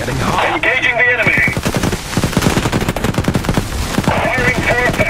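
Rapid automatic gunfire rattles in dense, loud bursts during a Global Conflagration skirmish battle, a steady stream of shots with voices talking over it.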